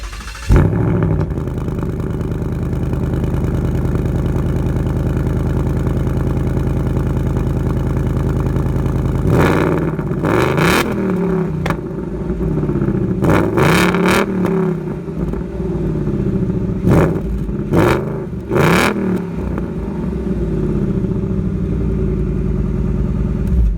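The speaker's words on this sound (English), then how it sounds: "the dual exhaust with quad tips, and it sounds amazing," A 2019 Ford Mustang GT V8 idles with a deep, loud, steady rumble through its dual exhaust with quad tips, broken by several sharp revs that climb and fall back, with no talking.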